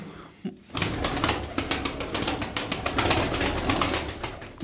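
Tumbler pigeons coo and flap their wings close by in a loft, with repeated soft coos and flutters running through the clip.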